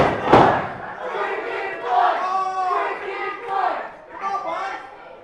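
A wrestling crowd chants loudly in unison for violence at an indie show, rising and falling in repeated rhythmic shouts that fill the hall, with a sharp bang near the start.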